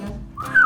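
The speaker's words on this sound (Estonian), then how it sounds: "siis ma tavaliselt vilistan. Et selle peale neid kõrgeid helisid, nende peale ta reageerib kohe" A person whistles a high note to call an old dog: a short, rising whistle that swells and sustains in the second half, close and fairly loud, with no talk.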